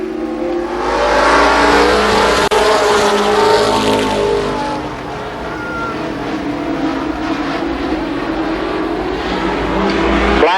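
Late model race cars at Columbus Motor Speedway in 1993 roar around the track in a heat race, engines droning loud and continuous as the cars pass close by.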